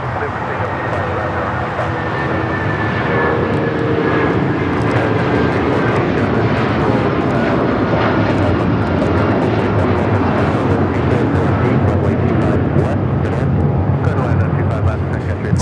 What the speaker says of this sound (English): It's taking off to Denver, Colorado.